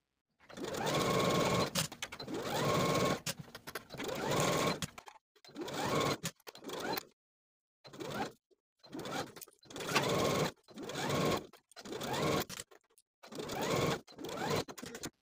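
A sewing machine stitches around the centre front and neckline of a kimono jacket collar in close, loud whirring bursts of a second or two each, separated by short silent pauses.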